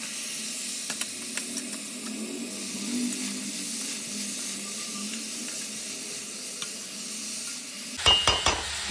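Bottle gourd pieces sizzle and hiss steadily in a hot pan, with stirring scrapes through the middle and a few louder metallic clatters of utensil against pan near the end.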